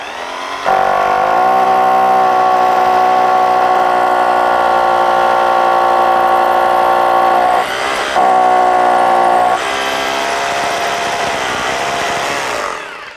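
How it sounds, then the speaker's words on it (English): A hammer drill runs loud and close while boring a 6.5 mm hole for a plastic rivet, a steady high-pitched whine with one brief pause near the end before it winds down. "You'll notice how the hammer drill goes even faster in a narrower hole."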